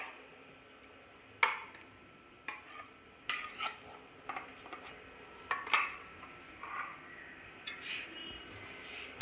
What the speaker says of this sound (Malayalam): തൈര് ചേർത്ത് നല്ലതുപോലെ മിക്സ് ചെയ്യുക.